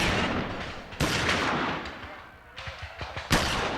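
Gunfire from a mob attack during the 1866 New Orleans riot rings out as loud, overlapping bursts of shots and sharp reports in quick succession, with a brief lull before a final heavy blast.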